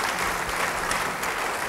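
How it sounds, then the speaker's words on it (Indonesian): Steady, dense applause from a church congregation during a sermon, continuous clapping at an even level with no break, brief and fairly loud. "Beri tepuk tangan bagi dia"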